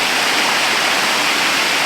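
Glenashdale waterfall near Whiting Bay running with only a little water after a dry spell, a steady soft hiss of falling water with no voices.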